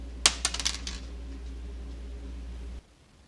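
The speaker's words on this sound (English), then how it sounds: "Something that may bounce, perhaps a tiny pebble" A tiny pebble bouncing on a textured surface: about five quick, bright clicks close together that speed up and fade, then a faint rattle before the sound cuts off. It is close and alone.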